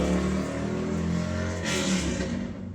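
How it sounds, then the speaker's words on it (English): Car engines revving outdoors beyond an open window, a sustained loud roar of motor vehicles accelerating with rising and falling engine pitch, heard alone with no talk. "not people revving their engines outside"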